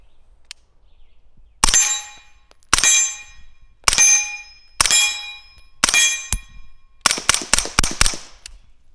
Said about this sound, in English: we're going to do 5 shots on steel and then 5 shots in the dirt.